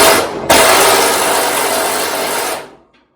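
A power drill whirs loudly while driving a bolt on a 1971 Ford F100, starting after a brief burst, running steadily for about two seconds, then winding down and stopping.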